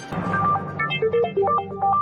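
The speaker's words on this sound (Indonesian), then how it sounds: "Coba aku telepon sekali lagi." A phone ringtone plays during a repeated call, its melodic electronic tones rising and stepping in a bright looping pattern over a low background hum, close and fairly loud with no talking.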